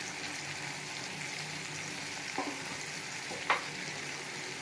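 Tomato with turmeric and chili powder frying in a pan, a soft steady sizzle held at low level, with two faint clinks from stirring.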